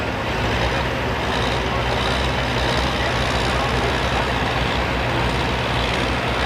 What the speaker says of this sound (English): My man coming out is on a tractor he's called Well Armed.